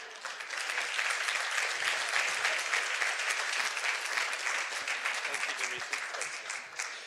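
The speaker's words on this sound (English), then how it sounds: "Please give him another big round of applause" Steady applause from a crowd, sustained clapping throughout with no pauses.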